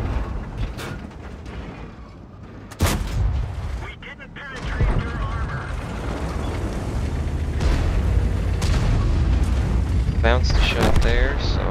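A tank gun fires in the World of Tanks video game: sharp, booming shots over a dense, rumbling battlefield bed of engine and mechanical noise, with speech mixed in.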